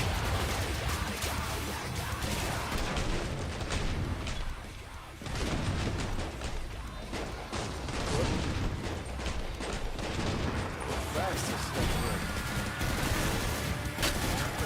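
Dense, continuous gunfire in the Killing Floor 3 video game, rapid shots and bursts crackling nonstop for the whole stretch, loud and close with a brief lull midway.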